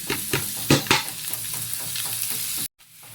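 Pork being stirred and toasted in a hot pan with ginger and pepper for dinuguan, a close crackling sizzle with a few sharp scraping clacks of the spatula before it cuts off abruptly.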